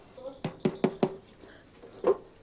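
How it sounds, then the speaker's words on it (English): Knuckles rapping on a house's front door, four quick firm knocks followed by a pause and one more knock, close by, with a faint voice in the background. "Let me knock on one."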